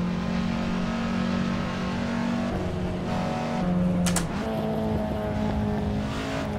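Engine of a Peugeot 206 RC in a VR racing game, a steady droning whine that shifts pitch as it revs, with a sharp burst partway through and traffic noise mixed in.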